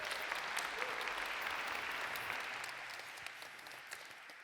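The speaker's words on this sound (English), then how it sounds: "Give Robert a round of applause." A concert audience applauds as the pianist arrives, a moderately faint, even wash of clapping that slowly tapers.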